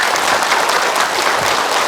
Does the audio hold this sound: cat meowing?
no